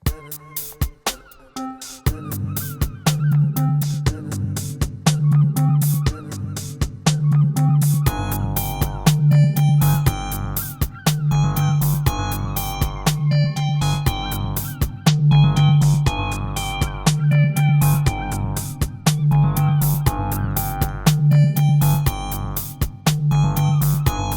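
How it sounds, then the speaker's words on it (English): A sliced seagull sample plays back on a 1010music Nanobox Tangerine sampler in a steady looping rhythm, with chopped seagull cries over a pulsing low tone. The segments repeat densely and loudly throughout. "what we have here is a little sample with some seagulls that is sliced up"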